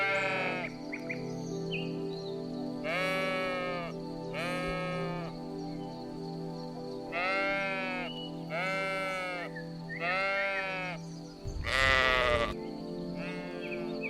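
A sheep bleats repeatedly, several wavering cries spaced a second or two apart, clear and near over a quiet background, with a brief thump near the end.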